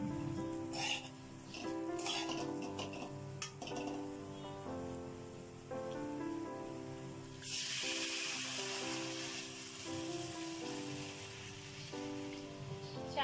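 Water poured onto rice fried with cashews and raisins for a sweet yellow pulao sets off a loud, sustained hiss and sizzle about halfway through, over soft background music.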